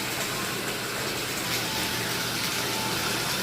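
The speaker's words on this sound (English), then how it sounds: "I'm just getting it filled with water, and then I'm going to jump in." A jacuzzi filling with water, a dense steady rushing gush from the inflow, continuous and close, with no voices.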